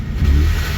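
A Ford Mustang engine revs up briefly, a low mid-pitched roar swelling and holding steady close by.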